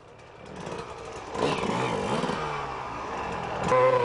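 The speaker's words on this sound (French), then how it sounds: "Les moteurs se mettent d'un seul coup à hurler." Rally car engines on a 1996 rally, a rising mechanical drone that swells into loud revving with overlapping engine tones, fairly close and building toward the end.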